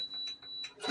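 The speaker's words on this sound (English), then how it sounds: "I'm going to go ahead and set my timer for 8 minutes." A kitchen timer gives a few short, high electronic beeps up close while being set for eight minutes during stovetop cooking of holiday egg nog, over a thin steady tone.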